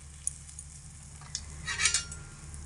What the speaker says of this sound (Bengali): এবার হালকা করে একটু নাড়াচাড়া করে তেলের মধ্যে মিশিয়ে নেব।